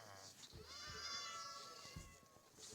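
Cats in a video game meow in a short run of rising and falling cries, fairly close and clear, with brief soft knocks between them.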